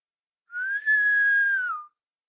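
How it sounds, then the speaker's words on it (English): A single clear whistle sounds, held steady for over a second, then cuts off, with silence before and after. "The portress blows in a whistle."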